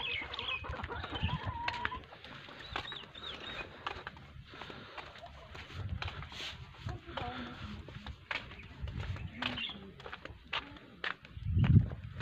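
Chickens just let out of their coop cluck and call around a rural yard, with footsteps and other scattered farm noises. Someone talks intermittently over the fowl, and a louder thump comes near the end.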